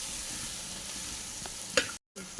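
Sliced onions browning in oil in a pan for chicken curry, a soft steady sizzle with a few faint stirring scrapes and a brief clatter near the end.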